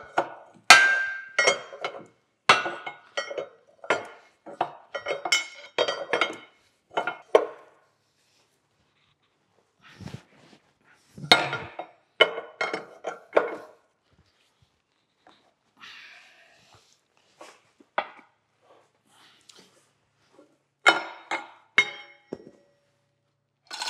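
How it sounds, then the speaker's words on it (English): A big wrench tightening the capstan gear pinion on the Tally Ho boat project, heard as sharp metallic knocks and clicks in uneven clusters separated by quiet pauses. "Got my big wrench here to tighten it with."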